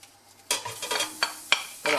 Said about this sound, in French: Je vais donc faire suer mes échalotes.